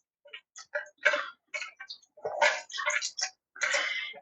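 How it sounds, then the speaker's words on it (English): A whisk clatters rapidly against a bowl, mixing ingredients for homemade white bread in quick, close bursts of ticking strokes separated by short pauses. "Okay, now we can give that a good whisking."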